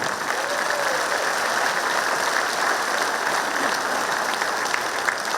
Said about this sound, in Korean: 여러분 다시 한번 뜨거운 박수 보내주시기 바랍니다